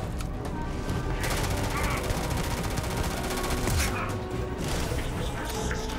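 Rapid video game gunfire from Starfield, bursts of shots and impacts running nearly continuously across the whole stretch at steady loudness, with a voice talking now and then over the fighting.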